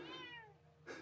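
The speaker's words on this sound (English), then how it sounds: "That's my cat." A cat in a camper van in France meows once with a drawn-out, rising-and-falling cry, close and clear, followed by a brief rustle.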